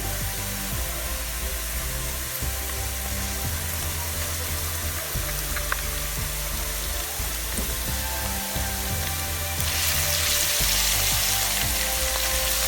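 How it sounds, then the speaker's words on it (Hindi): Continuous soft sizzling of ginger and garlic frying with onions in a pan, with occasional stirring clatter and a brief louder hiss near the end. "अदरक लहसुन को हम 2 मिनट के लिए प्याज के साथ फ्राई करेंगे"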